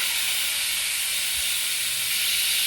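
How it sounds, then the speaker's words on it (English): A loud, continuous hiss of steam rushing out of a pressure cooker under pressure, steady and close, with no pauses or voices. "So I'm going to release the steam."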